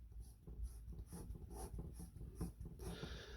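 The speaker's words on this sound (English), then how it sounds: "so I can erase this" Pencil lines being erased on a Bargue-style drawing, a soft, steady rubbing and scrubbing in quick repeated strokes, close and quiet, with no talk.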